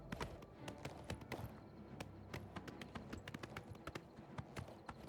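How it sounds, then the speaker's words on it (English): Horse hooves clip-clop steadily at a riding pace across rough, uneven terrain in the video game Oblivion Remastered, a dense run of sharp hoofbeats over a low rumbling background. "riding a horse with just one hand"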